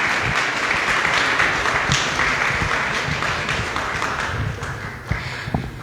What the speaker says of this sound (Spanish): Por favor, demos un aplauso